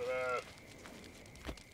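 A sheep in the video game Force of Nature 2 gives a short, tonal bleat at the start, followed by faint game background sounds.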